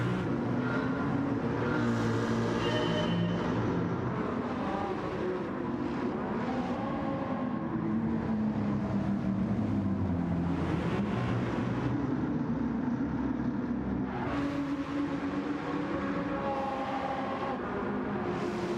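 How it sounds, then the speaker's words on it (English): Maserati MC20 engine driven around a track lap in Gran Turismo 7, a loud continuous roar rising and falling through gear changes and revs for the whole stretch, with no talking over it. "I like the MC20, it's a pretty car."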